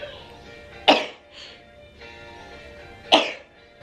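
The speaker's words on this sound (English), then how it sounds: "I need to sneeze." Two sharp, forceful bursts stand out from a quiet background, sounding like sneezes or sneeze-like coughs, close by and a couple of seconds apart.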